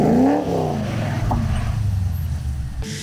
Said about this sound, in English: if you do nothing, the car is gonna roll around and it's gonna go into a spin